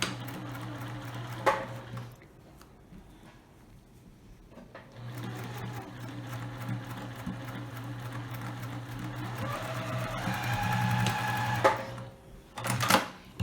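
A sewing machine back-stitches while a ring bag is being made, its motor whirring in steady bursts with short pauses and a few clicks and knocks near the end.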